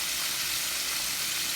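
Battered chicken on its second fry in a pot of hot oil, a steady, dense sizzle filling the whole moment without pause, close and even in level, with no voices.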